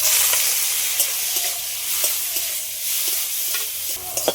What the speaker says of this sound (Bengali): চিংড়ি মাছটা একটু হালকা করে ভেজে নিয়েছি।